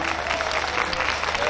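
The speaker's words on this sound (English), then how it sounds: "give yourselves a round of applause" An audience at a folk festival molly dancing performance claps in a brief, steady burst of applause, dense and fairly close, with a faint voice underneath.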